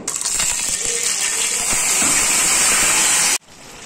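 Marinated chicken hits hot mustard oil in a pan, bursting into a loud, steady sizzling hiss that fills the kitchen for several seconds before cutting off abruptly.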